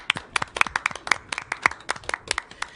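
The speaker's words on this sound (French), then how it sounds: "On peut s'applaudir." Scattered clapping from a small group, a dozen or so uneven hand claps over a few seconds, fairly close and with no one talking.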